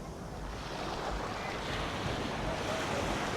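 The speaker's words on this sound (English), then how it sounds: "the beautiful sea right now." Steady sea surf rolls onto the shore at Bangtao Beach, a continuous broadband wash of breaking waves mixed with wind rumble on the microphone, moderately quiet and unbroken with no voices.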